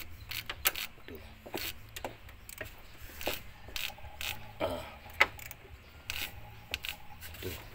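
An Isuzu 4JJ1 engine's timing chain and camshaft are turned slowly by hand, making faint ratcheting clicks and metallic ticks at an irregular pace, close up, with a quiet background hum.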